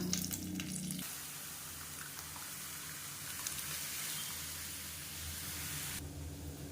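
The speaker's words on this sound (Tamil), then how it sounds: "கடுகு உளுந்து பொரிய ஆரம்பிக்குது" Mustard seeds and urad dal sizzle and crackle steadily in hot oil for a sambar tempering, a dense close frying hiss that fills the whole stretch with no talk over it.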